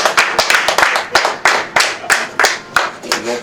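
Guests at a traditional wedding dowry ceremony clap in acclamation, loud and close, with sharp rhythmic hand claps that repeat steadily in a lively beat.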